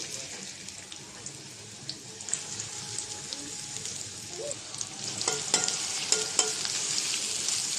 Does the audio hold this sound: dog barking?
no